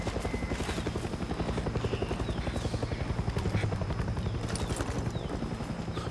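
Helicopter in the Far Cry 6 video game, a continuous rapid rotor chop thudding loudly throughout with some game noise mixed in.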